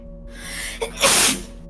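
A single sharp sneeze bursts out loudly after a brief breathy intake, close to the listener, with a faint hum in the background.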